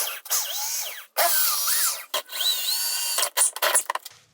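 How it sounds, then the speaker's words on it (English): A power drill runs close by in several short bursts, drilling out pop rivets on a car door panel, its whine rising and falling in pitch as it bites through metal, with brief pauses between. "let's just drill these out and get this panel off"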